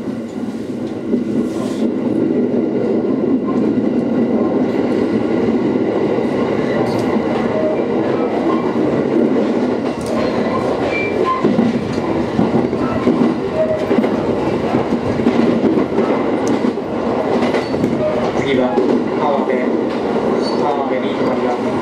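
A JR 701 series electric train running on the Ōu Main Line between Namioka and Hirosaki, with a steady loud rumble of motors and wheels, occasional rail clicks and a faint voice in the background.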